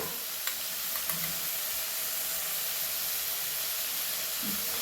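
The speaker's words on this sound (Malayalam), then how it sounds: "ഇനി നല്ല മാതിരി ഇളക്കുക." Chilli powder and homemade garam masala are stirred in a hot pan, giving a steady close sizzle and hiss with a few faint scrapes and no talking.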